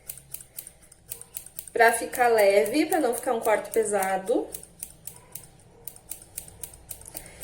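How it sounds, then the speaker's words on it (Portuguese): Scissors snip through hair in quick, close clicking cuts while someone talks over them, shaping a layered haircut at home with the blades held upright. "agora a gente vai cortar isso aqui, tá? Então, deixa eu só posicionar a tesoura. Tesoura em pé"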